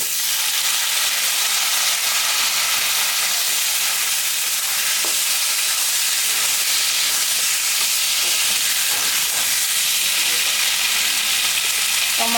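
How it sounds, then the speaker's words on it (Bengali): Boiled potatoes go into fried onions in a pan, and a loud, continuous sizzle of oil hisses steadily throughout with faint stirring knocks. "পেঁয়াজটা ভাজা ভাজা হয়ে গেছে, যে আলু সিদ্ধ করে রাখছি এই আলুটা আমি এখন দিয়ে দিই।"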